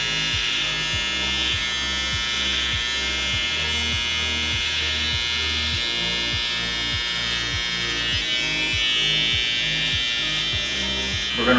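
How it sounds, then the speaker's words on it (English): Electric hair trimmers buzz steadily and close-up while cutting a low fade at the back of the head, a continuous droning hum with faint ticking from the blades throughout. "so I need to fix this with our trimmers here and start our V in the back here"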